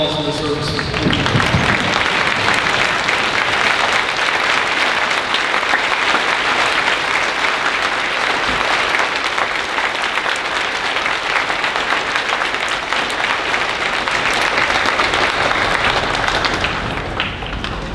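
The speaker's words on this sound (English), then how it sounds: "please give those a round of applause for the service" Sustained audience applause from a standing crowd at a high school Veterans Day program honoring a Purple Heart recipient, dense and steady clapping for about seventeen seconds before fading at the end.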